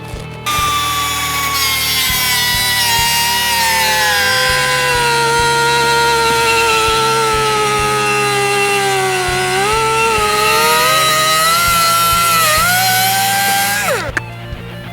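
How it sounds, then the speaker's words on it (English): An abrasive cutting wheel slices through a front suspension brace on a 2016-2021 Toyota Tacoma during a lift kit install, a loud sustained grinding whine that shifts pitch as the cut progresses, then spins down near the end. "then we'll get the cutting wheel out"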